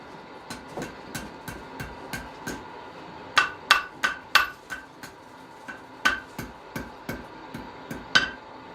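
A blacksmith hammers a curl into hot metal: a steady run of sharp, ringing hammer blows on the anvil, close and loud, with short pauses and a few heavier strikes mid-sequence.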